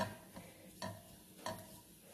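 Ground mustard seeds and fenugreek dry-roasting in a pan without oil for beef pickle, stirred with a few distinct scraping strokes over a faint, steady crackle, close and quiet.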